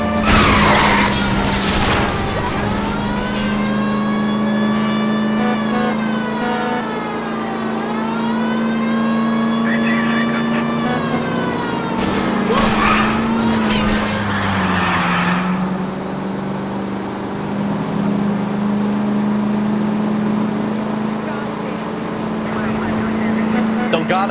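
Cars in an illegal street race in L.A. Noire roar and skid loudly for the whole stretch, engine pitch rising and falling with long tire squeals, a burst of crashes around the middle and radio talk over it.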